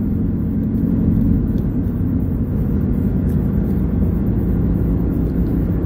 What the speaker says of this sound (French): Il y a trop de voitures qui viennent en face.